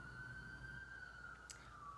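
A faint, distant siren wails in a steady drawn-out tone over low background rumble, with no voices.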